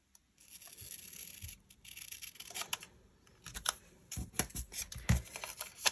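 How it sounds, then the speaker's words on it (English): Scissors snip through a planner sticker close up, a quick uneven series of crisp cuts and rustling paper, growing louder and denser toward the end, with no voices. "Okay, I'm going to cut this off."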